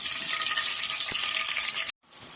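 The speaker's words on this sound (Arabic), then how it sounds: "الزيت سخن عندي قوي كده، هاخد شويه من البطاطس الفريز اللي عندي اللي انا حطاها في الفريزر، واخد شويه كده احمرهم" Frozen potatoes fry in very hot oil, a loud, close, bright sizzle that holds steady with one sharp clack, then cuts out abruptly and returns slightly softer.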